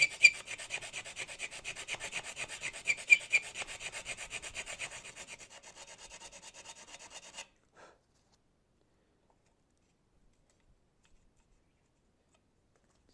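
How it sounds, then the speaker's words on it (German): Rhythmic rasping strokes come from sanding the servo cutouts in a wooden F3B model glider fuselage. The close, quick scratching fades over about seven seconds and then leaves near silence. "Und schleife die Ausschnitte passend zu unserer Markierung weiter aus."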